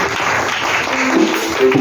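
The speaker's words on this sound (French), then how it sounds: "Acclamons Jésus" A church congregation applauding to acclaim Jesus, a dense, steady wash of clapping with faint voices mixed in, loud and close throughout.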